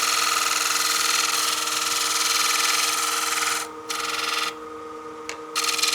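A 3/8 or 1/2 inch bar-stock bowl gouge cuts wood on a lathe with a continuous, close scraping hiss over the machine's steady hum, briefly easing off and resuming near the end.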